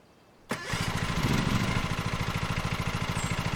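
A Stiga riding lawn mower in Lawn Mower Simulator cranks and catches after a short quiet pause, then settles into a steady, rapid, pulsing idle that stays loud and close to the end.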